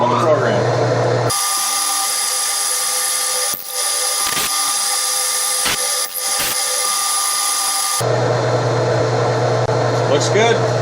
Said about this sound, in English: fire up the spindle, and run the program